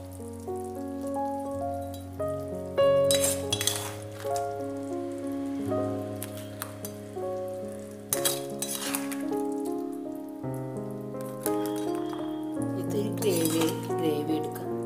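Roasted crab is moved onto a plate with utensils clinking and scraping in irregular bursts, over steady sizzling and background music.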